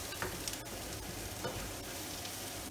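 A mushroom Indian dish browns in a pan, giving a soft, steady sizzle with occasional light stirring scrapes, faint and close.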